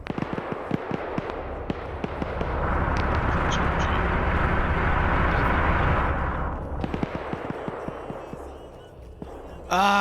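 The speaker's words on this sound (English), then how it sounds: "The shooting in the distance is pissing him off" Distant gunfire in an Arma military game mission, scattered pops and cracks under a swelling rumble of explosions or sustained firing that builds, holds, then fades, ending with a sharp burst.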